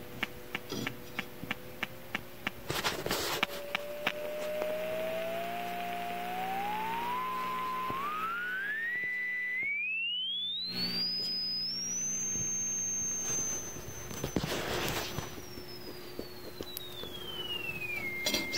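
An oscillator tone sent through a homemade plate reverb to a microphone input: a thin whistling tone sweeping slowly upward to a high pitch then gliding back down, with scattered clicks and bursts of noise over a steady hum.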